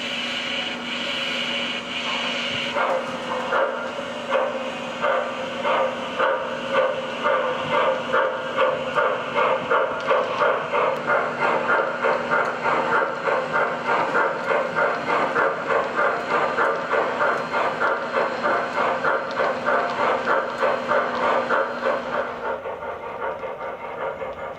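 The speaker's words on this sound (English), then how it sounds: "the 765 engineer whistles off and heads for the main." Steam locomotive 765 chuffs in a steady, rapid rhythm as it pulls a heavy freight train, with hissing steam and rumbling cars, loud and close.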